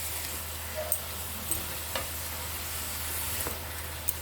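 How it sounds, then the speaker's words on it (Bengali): Marinated cabbage stirred in a frying pan gives a steady soft sizzle under occasional scraping taps of a spatula, close and fairly quiet, with no voices. "আমি ভালো করে মিশিয়ে নিচ্ছি"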